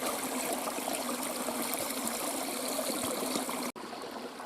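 Cold spring water trickles and burbles steadily nearby, a soft continuous flow with no voices, briefly cutting out near the end.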